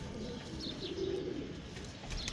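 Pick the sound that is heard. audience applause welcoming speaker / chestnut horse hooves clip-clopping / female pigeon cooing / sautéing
female pigeon cooing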